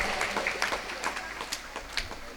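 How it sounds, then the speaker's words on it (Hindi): Children being cheered at a school prize distribution with a crowd clapping steadily throughout, soft scattered claps forming a continuous wash of applause under some background talk. "चलो हर्षित तालियां खूब जोर से"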